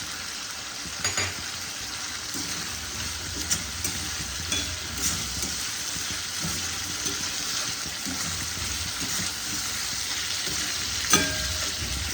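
Spice paste sizzles and fries steadily in a pan as washed cashews and raisins go in, a continuous close crackling hiss with a few soft stirring knocks and no talk.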